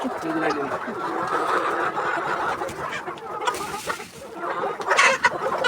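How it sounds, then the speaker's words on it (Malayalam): BV380 rooster among laying hens in a coop, clucking and brief calls over a busy background, with people talking at the same time. "ഇത് പൂവനാണ്"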